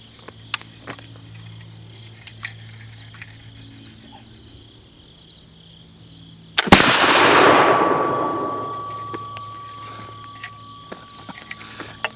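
A single loud report from a 1766 Charleville flintlock musket at about 6.6 seconds, followed by a sustained metallic ring from the struck steel target that fades over several seconds, with insect chirping in the background.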